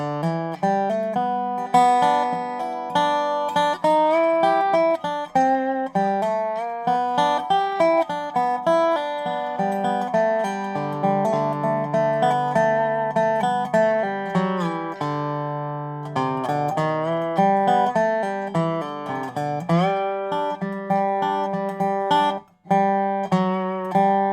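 A bright, twangy dobro picks out a lively, steady bluegrass melody on its own, with quick rolling notes and a brief pause near the end.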